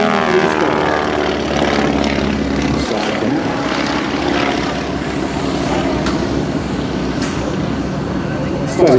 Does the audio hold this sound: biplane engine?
yes